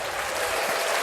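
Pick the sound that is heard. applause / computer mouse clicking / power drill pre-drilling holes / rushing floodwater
applause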